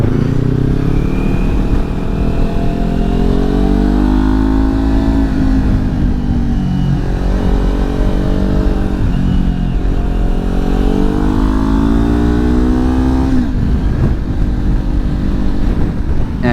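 A Kawasaki Ninja 400 motorcycle engine drones steadily while riding in strong 20 mph gusts, heavy wind buffeting the microphone throughout, with pitch rising and falling as the rider accelerates and shifts.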